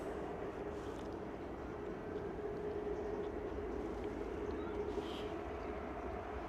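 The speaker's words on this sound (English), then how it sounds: "Lots of engines spooling up, but not a lot of movement going on over there at the moment." Ryanair jets taxiing and spooling up their engines at London Stansted Airport, a steady, fairly distant roar with a sustained whine that holds evenly throughout, with no talking.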